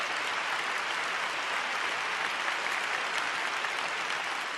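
A large crowd in a big exhibition hall at a peace festival applauds to welcome a speaker, a dense, even roar of clapping that stays loud and unbroken throughout, with no voices over it.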